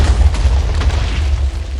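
A Minecraft TNT blast set off by an arrow rumbles as a loud, sustained low boom that rolls on for the full stretch without pause.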